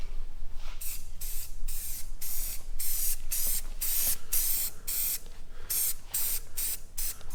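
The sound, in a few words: spray painting Ford F150 emblems satin dark basalt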